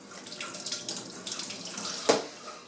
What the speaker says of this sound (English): you can hear the water coming out as it drains out of the hose